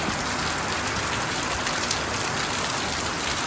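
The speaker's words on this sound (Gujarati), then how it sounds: "કેવો વરસાદ આવે છે" Heavy rain pours down in a dense, unbroken hiss of drops on surfaces, steady and loud throughout with no voices.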